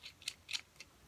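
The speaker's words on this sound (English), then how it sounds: "Put it on there and ratchet it off." A ratchet wrench loosens a nut on a skateboard truck, giving a few quiet, quick clicking bursts spaced unevenly over a moment, with no talking.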